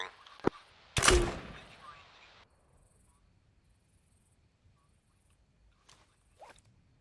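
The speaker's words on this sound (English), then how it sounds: "Okay, I'm about to fire this flare now." A flare fires with a sharp bang and a brief hissing whoosh, followed by near silence and faint ambient crackle, with a few soft sounds late in the moment.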